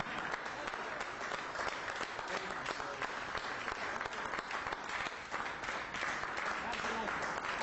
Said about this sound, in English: let's have a round of applause for Bill Thornton